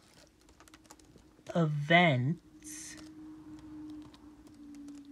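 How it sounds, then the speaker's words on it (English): One-handed typing on a computer keyboard while coding in Java, soft scattered key taps under a brief spoken word, with a steady low hum behind. "Typing with one hand is difficult."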